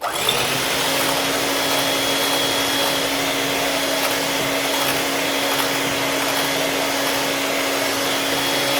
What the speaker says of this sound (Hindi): तकरीबन 2 मिनट इसको मैंने चलाया है बीटर को